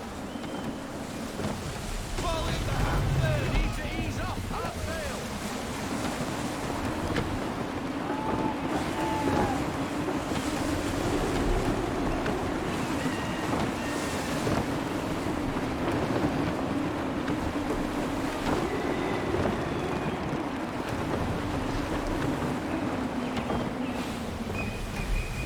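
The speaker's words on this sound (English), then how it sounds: "Gusty winds can be difficult to manage." Gusty wind and sea waves around a sailing ship in Assassin's Creed III, a constant rushing wind with surging surf and creaking hull, loud and unbroken, with brief distant voices.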